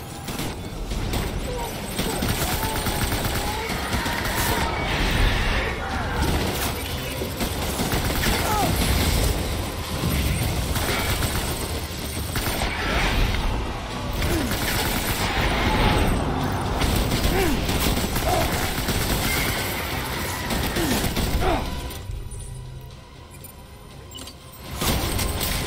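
Dense gunfire and mechanical clatter rattle almost continuously in the video game Death Stranding, loud bursts piling over one another before easing off near the end.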